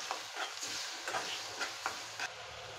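Onion and chopped desi tomatoes being stirred in a kadai for a Kathiyawadi bhindi curry, giving soft scraping strokes at a steady rhythm over a quiet, faint sizzle.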